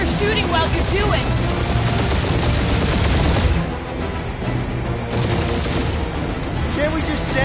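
Dense, continuous gunfire and explosions from a firefight in Marvel's Guardians of the Galaxy on PS5, loud and sustained, briefly easing mid-way before resuming, with game voices mixed into the chaos.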